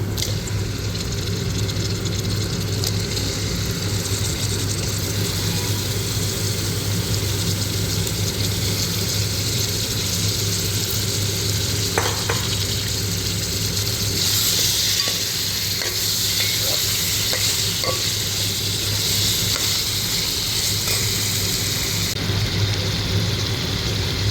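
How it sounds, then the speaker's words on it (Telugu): Chicken pieces fry in a pan for a spicy Telugu-style chicken dish. The sizzle is steady and continuous throughout, with occasional scraping clicks from stirring and no talk. "ఇప్పుడు చికెన్ వేసుకోవాలి. చికెన్ వేస్తాము."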